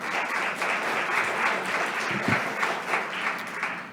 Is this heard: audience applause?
yes